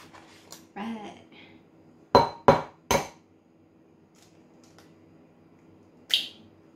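Eggshells cracking against a bowl while making a giant Jaffa cake: a few sharp, close knocks in quick succession, then a later single tap, with a voice speaking briefly at the start.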